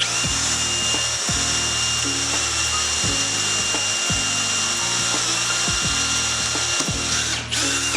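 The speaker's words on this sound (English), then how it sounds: "First things first, I'm gonna make some pilot holes here-ish." Drill boring pilot holes into a wooden cutting guide at low speed: a steady, loud mechanical whir with repeating grinding pulses and rhythmic ratcheting clicks, close and continuous with no talking.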